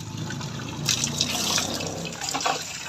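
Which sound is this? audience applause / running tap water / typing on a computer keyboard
running tap water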